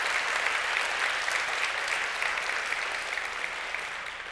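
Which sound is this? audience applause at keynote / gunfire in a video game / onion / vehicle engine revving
audience applause at keynote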